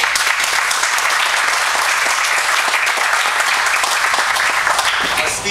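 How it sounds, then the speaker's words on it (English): Sustained, dense applause from a crowd at a groundbreaking event for an affordable-housing sewer project, steady and loud for several seconds before tapering off at the very end. "he deserves the biggest round of applause"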